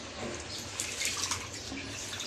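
Fresh colocasia leaves bought at a market are dipped into a bowl of water, giving faint soft sloshing and light dripping with no talking.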